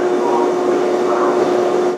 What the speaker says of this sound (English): This is my Subway car right now.